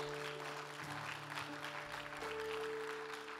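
Church congregation applauding in praise, a dense, even clapping that holds steady over a low sustained musical hum, fairly quiet overall.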